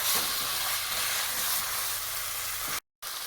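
Steady close sizzle of veal browning in a hot pan for nihari, a bright even frying hiss that carries on alone before cutting out briefly near the end.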